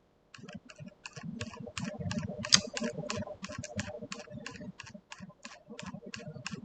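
Typing on a computer keyboard in dental implant design software, with a steady run of light, rapid key clicks at close range, fairly quiet and with no talk.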